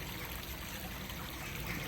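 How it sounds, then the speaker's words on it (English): A tiny waterfall trickling outdoors on a misty day, heard as a soft, steady stream of running water that stays quiet and continuous with nobody speaking. "I'm going to try and exaggerate this and make this like a big waterfall when it's tiny"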